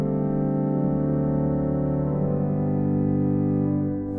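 A single stop of a church pipe organ in Cirencester Parish Church sounds alone, a sustained chord held steadily with a slight shift midway, full and resonant with no voices.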